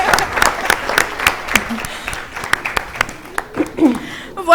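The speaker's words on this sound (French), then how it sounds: "On les applaudit." A studio audience at a telethon event applauds in uneven bursts, with sharp individual claps standing out and some voices and light laughter mixed in.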